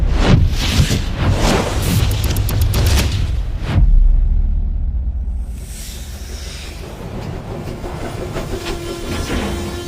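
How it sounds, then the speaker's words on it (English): Train rolling on rails, loud and close, with rapid clickety-clack wheel beats and metallic clatter, a sudden heavy thump midway, then a quieter rumbling stretch as the cars keep moving. "The train stops"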